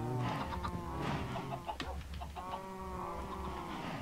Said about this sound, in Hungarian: szaporodnak a csirkék